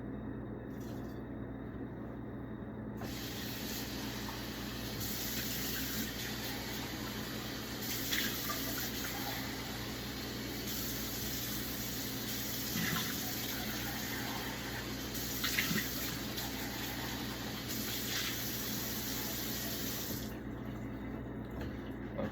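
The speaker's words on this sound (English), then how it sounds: "I'll pour out the Kool-Aid mixture." Kool-Aid mixture poured from one beaker into another during a school chemistry lab, a steady liquid stream running for most of the stretch with a few brief splashy surges, no talking.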